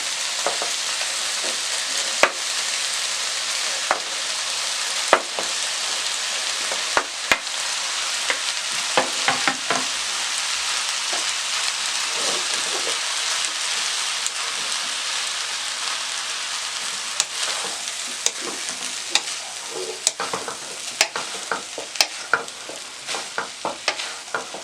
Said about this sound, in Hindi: अब आपने एहतियात से इसमें चम्मच चलाना है ताकि चावल टूटे ना और ये अच्छी तरह से सब मिक्स हो जाए।